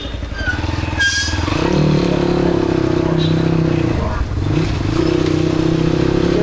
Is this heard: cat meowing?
no